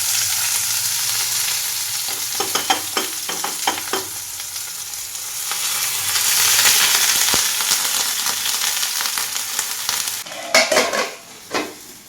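Food sizzles steadily in a hot wok, with a run of sharp clinks and scrapes from a utensil stirring or turning it. The frying swells louder midway, and a few clattering knocks come near the end.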